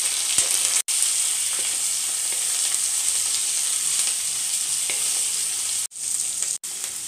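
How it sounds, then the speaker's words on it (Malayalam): Chopped garlic, onion, green chili and curry leaves fry in a hot pan with cumin for a Kerala-style broccoli dish, making a loud, continuous bright sizzle that cuts out briefly a few times, with no voices. "ഇനി അരിഞ്ഞു വെച്ച വെളുത്തുള്ളിയും സവാള പച്ചമുളക് കറിവേപ്പിലയും കൂടി ഇട്ട് കൊടുക്കാം."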